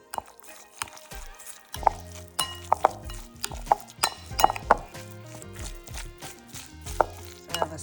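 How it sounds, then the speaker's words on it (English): Seasonings including lemon pepper are stirred together in a bowl, with a run of close clinks and taps of a utensil against the dish, irregular and fairly quiet. "And now I'm gonna just mix this all up."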